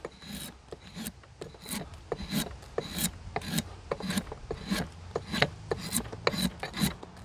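A drawknife takes small careful cuts along a piece of wood, a close series of short scraping rasps in a steady rhythm of roughly two strokes per second.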